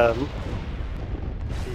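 Imperial Star Destroyer capital ship cannons fire in a Star Wars space battle game, a heavy rumbling boom that fades into a low continuous roar, with a voice talking faintly underneath.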